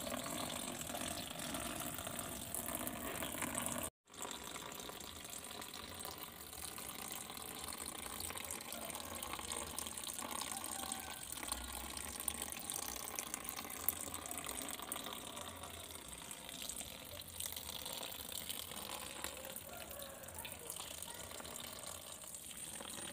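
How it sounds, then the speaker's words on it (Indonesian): Water pouring into an eel farming pond, a continuous low rushing and trickling flow that carries on steadily with one brief dropout near the start. "ini teman-teman airnya udah mulai terisi ya, sudah mulai merendam daripada si belutnya"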